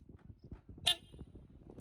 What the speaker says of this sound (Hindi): गाड़ी को मैं लॉक करूंगा तो आवाज करेगी